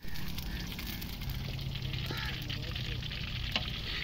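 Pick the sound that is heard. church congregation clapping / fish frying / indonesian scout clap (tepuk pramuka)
fish frying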